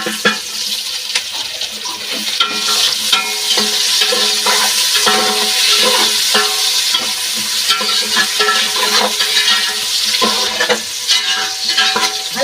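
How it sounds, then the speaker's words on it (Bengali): Onions and green chillies fry steadily in a pan for chicken biryani, a continuous sizzle with stirring scrapes and clinks running throughout, fairly loud and close, with no one speaking. "ভালো করে এগুলো ভেজে নেব। পেঁয়াজ, কাঁচা লঙ্কা"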